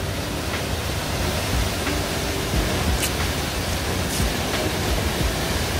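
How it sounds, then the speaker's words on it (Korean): Jaein waterfall pouring into a deep pool in a basalt-walled gorge, a loud, dense, continuous roar of falling water with no voices. "폭포 앞에 지금 이렇게 물이 떨어지고 있습니다"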